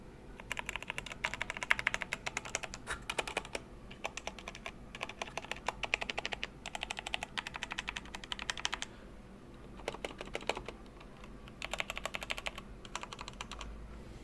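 Someone types on a Tecware Phantom mechanical keyboard, producing close, crisp key clicks in quick bursts separated by short pauses over about fourteen seconds, with no talking.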